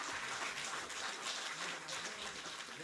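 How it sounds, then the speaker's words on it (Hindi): Audience applause at a felicitation ceremony in a stadium honouring Asian Games 2022 medal winners, greeting a 57 kg wrestling bronze medallist; a steady, dense wash of clapping that holds at an even level throughout, with no voices over it. "जोरदार तालियां।"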